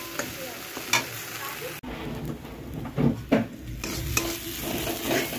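Cumin powder being stirred and dry-fried in a pan, a soft continuous sizzle with scraping stir strokes and occasional louder clinks, close and alone.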